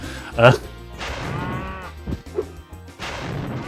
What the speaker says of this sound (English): Wait a minute, herding cows.